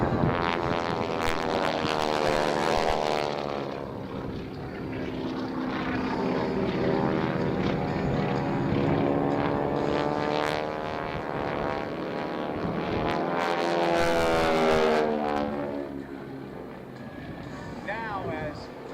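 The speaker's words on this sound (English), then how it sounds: "Now as Ryan and Steve exit, number 1, Jimmy Fordham, comes in with the smoke on in Show Center." An aerobatic propeller airplane with smoke on at the Titan Aerobatic Team display, 2024 Dayton Air Show, its engine droning and sweeping in pitch as it passes, while an announcer talks over the crowd.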